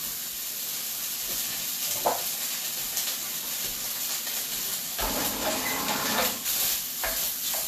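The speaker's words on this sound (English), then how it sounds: "So we're going to add our sausage to our pan, and you're going to want to break this up." Sausage frying in a pan while being broken up with a utensil, a steady close sizzle and hiss with occasional scraping and stirring sounds.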